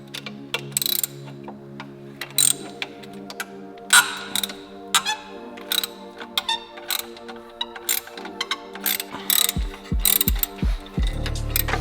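A hand ratchet clicks in repeated short bursts, loosening bolts to remove a turbo kit with manifold and wastegate from a Mitsubishi Evo, with occasional metallic clanks between strokes.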